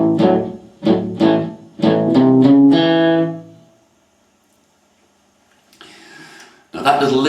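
A distorted electric guitar plays a blues shuffle lick in A, a run of choppy strummed notes over about three seconds that ends in a held chord and fades to near silence. A fresh attack comes in at the very end.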